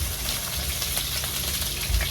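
Chopped baby potatoes fry in a pan with a steady close crackling sizzle, continuous and even for the whole short stretch.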